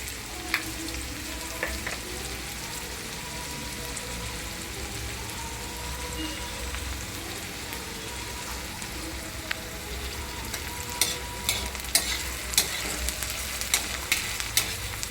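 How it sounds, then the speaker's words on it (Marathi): Onion for a raw mango chutney fries and sizzles in a pan, a continuous crackling hiss with scattered spatula scrapes and stirring clicks that grow busier toward the end, no voices. "कांदा पूर्ण भाजून यायला पाहिजे"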